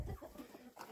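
A broody hen clucks repeatedly in a short, close burst, with soft low chicken sounds while ducklings or chicks hatch nearby.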